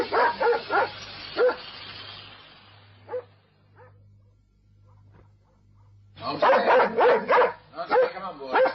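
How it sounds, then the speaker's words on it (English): A dog barks in short bursts near the start, falls quiet, then barks again more loudly at the end, heard over a low steady hum in a radio-drama scene by an always-open south gate. "Well, there goes the dog."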